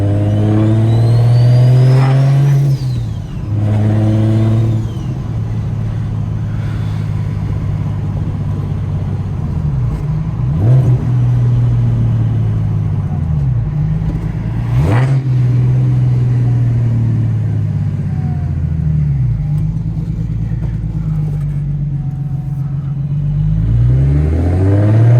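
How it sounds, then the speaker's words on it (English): A single-turbo car engine revs repeatedly from inside the cabin, loud and close, its pitch climbing and falling through sustained pulls and gear shifts with no talking. "You can't tell me this car doesn't sound more aggressive."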